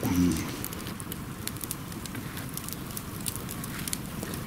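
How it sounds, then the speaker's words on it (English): A stoked campfire at a wild camp crackles and hisses steadily up close, with scattered sharp pops over a continuous rushing burn, and no one speaking. "Fire stoked up."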